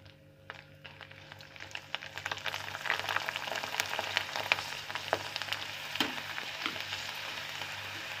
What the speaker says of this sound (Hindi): ऑयल हमारा अच्छे से गर्म हो चुका है और अब हम इसमें कचरी डालकर इनको डीप फ्राई करेंगे।